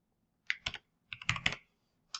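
Fingers tapping a computer keyboard while writing code, in three short clusters of close, crisp keystrokes separated by pauses, with no talking.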